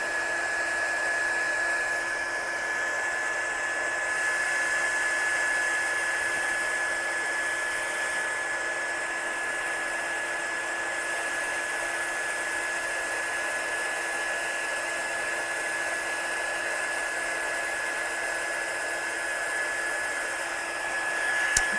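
Heat gun heat-setting embossing ink on a stenciled card, a continuous steady blowing hum with a thin whistle, close and even for over twenty seconds, no talking.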